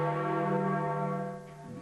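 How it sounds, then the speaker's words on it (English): Church bells toll at the Vatican marking the death of Pope John Paul II, a loud, sustained ringing tone with rich overtones that slowly decays, heard alone. "Bells tolled at the Vatican to signal the death of John Paul II."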